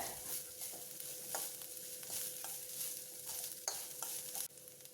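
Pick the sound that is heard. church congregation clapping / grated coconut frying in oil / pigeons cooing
grated coconut frying in oil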